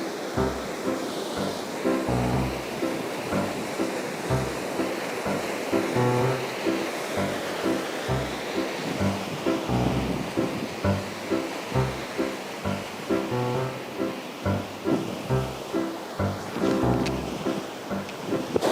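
Water of the Koovam river pouring over a drop like a waterfall in Chennai, a loud, continuous rushing roar with surging pulses, steady throughout with no voices.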